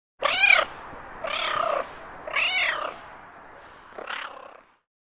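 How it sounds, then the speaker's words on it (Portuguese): A cat gives four drawn-out meows in a row, close and clear, the last one shorter and softer, with a faint low purr between them and no talking. "Som do gato."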